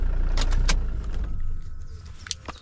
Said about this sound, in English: turn off the car engine